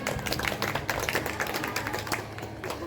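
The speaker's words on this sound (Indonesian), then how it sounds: "Tepuk tangan dulu." A group of people clapping their hands together in a physical education class, a brisk run of claps, fairly close, with some voices mixed in.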